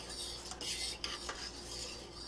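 Rice stirred in a pot of boiling water, a spoon scraping and swishing against the pot in a few soft strokes over a steady bubbling hiss, close and fairly quiet.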